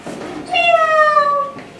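A storyteller's voice imitates a cat's sweet, drawn-out meow, one clear sustained mewing call in the middle, with faint breath sounds just before and after.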